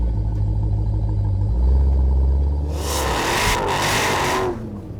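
A 1000-horsepower SRT Challenger with a Hellephant engine and Magnaflow mufflers idles with a deep low rumble, then revs loudly in several rising roars before settling back down, close and with no one talking.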